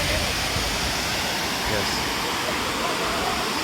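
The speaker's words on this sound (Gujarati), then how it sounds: "અને પેલી બાજુથી બધું પાણી આ બાજુ આવે છે, અને એ પાણી બધું અહીંયાથી જઈને આગળ સુધી જતું હોય છે પાણી" Water rushing past a dam near the lake point at Matheran, reached by train from Mumbai, as a steady, loud, broadband roar that fills the whole stretch, with a brief spoken word over it.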